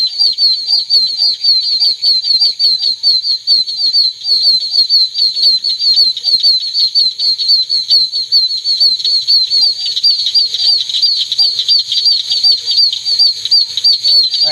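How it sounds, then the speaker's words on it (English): Oak toads call from a flooded pool at dusk in Florida, a loud, steady chorus of high-pitched, chick-like peeps repeating rapidly and overlapping without pause. "That's these oak toads in this little pool."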